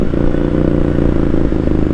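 Motorcycle engine idling close by before a ride, a loud continuous low throbbing rumble with a steady pulsing beat and slight rattle, no voices.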